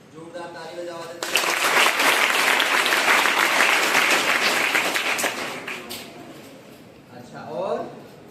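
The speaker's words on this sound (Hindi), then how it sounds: "जोरदार ताली बजाओ आदित्य" A class of students breaks into loud applause for a classmate, a dense, sustained roar of clapping that lasts several seconds and fades, with a voice talking before and after it.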